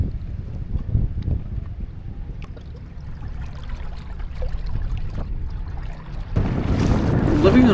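An electric outboard motor boat pulls away from a mooring ball in Tobermory harbour on the Isle of Mull, with steady low water and motor rumble, wind buffeting the microphone, and a louder rush of wash near the end.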